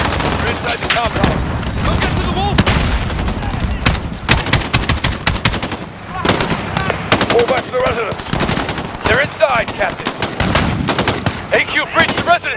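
Rapid machine-gun bursts and single gunshots crackle through a firefight at an embassy compound in Call of Duty: Modern Warfare, loud and dense, with booming impacts and voices shouting over the shooting.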